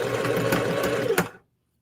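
A Singer HD sewing machine stitches fabric in a fast, steady mechanical whir with rapid needle knocks, close and loud, running for over a second before stopping abruptly.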